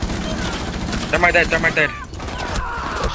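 Heavy gunfire in the tactical shooter Rainbow Six Siege: rapid shots and bursts crowd the scene, partly under a player's talk and a brief in-game radio tone.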